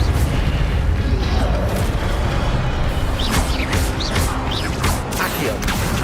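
In the Hogwarts video game, the Incendio fire spell goes off as a dense, loud roaring blast with crackling bursts and whooshes, continuous and heavy throughout, with game effects layered on top.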